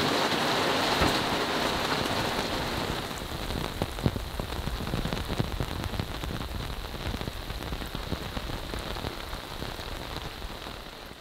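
Steady rain falling just after a thunderstorm, a dense close patter of drops on surfaces with scattered louder individual drips, continuous and fairly loud throughout with no voices.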